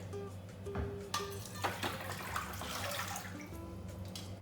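Water splashes and trickles steadily into a bowl, with a continuous low hum underneath and a few brief clinks.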